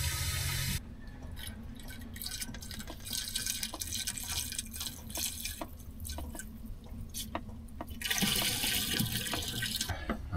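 Water runs from the tank of a camper van parked in freezing Scottish weather, a steady close trickle and splash with scattered drips, swelling louder near the start and again toward the end.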